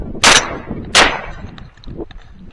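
Two loud, sharp shotgun blasts ring out about a second apart during an outdoor dove hunt, each trailing off quickly, followed by a fainter thump.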